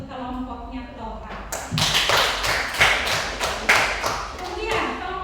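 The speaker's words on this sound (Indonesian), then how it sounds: "Aplaus untuk kelompoknya Toha." Applause in a school classroom for a student group, a burst of clapping and taps starting abruptly and continuing for a few seconds, close and moderately loud, following a voice.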